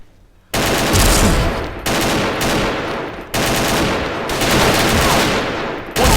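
Loud, sustained automatic gunfire from a video game, coming in dense rapid bursts with brief breaks between them, close and continuous across the whole stretch.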